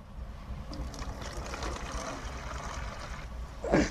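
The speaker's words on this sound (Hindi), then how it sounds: "आब तैमे चार सौ ग्राम पानी डालने छै सुसुम" Warm water is poured into a plastic container to treat ladyfinger seeds, a soft, low trickle and splash heard close by and fairly quietly throughout.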